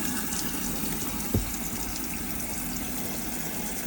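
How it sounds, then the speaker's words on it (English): Hot water runs from the tap of a Burstner Ixeo Time It 590 motorhome with the water pump on, a steady close rushing flow broken by one brief knock partway through. "there's water coming through and it's at good pressure"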